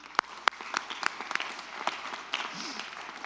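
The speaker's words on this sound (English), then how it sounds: "how about a nice big round of applause for these people?" Scattered, sparse clapping from a small audience at a school board meeting, faint and uneven, with a few sharper individual claps and some background voices.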